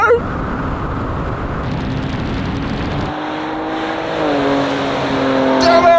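Pickup trucks, a Ford Ranger Raptor and a RAM TRX, launching in a drag race: a loud, close engine roar with rising pitch sweeps as the engines rev and shift gears.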